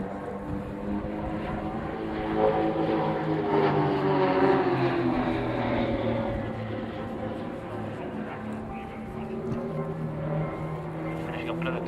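Propeller aircraft from a display team drone overhead while flying formation manoeuvres, a steady, moderately distant hum that swells and shifts in pitch as they turn.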